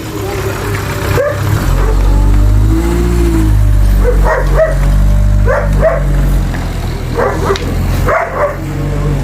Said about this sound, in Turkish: inekleri havlıyor